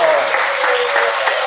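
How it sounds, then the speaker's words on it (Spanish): Steady studio audience applause during a live TV show fills the clip, a dense continuous clatter of clapping with a voice shouting over it. "¡Aplauso! ¡Vamos!"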